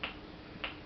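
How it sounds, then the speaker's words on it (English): Two sharp, dry metronome clicks sound about 0.6 seconds apart, close and quiet against a soft background hiss. "I happen to have a metronome here."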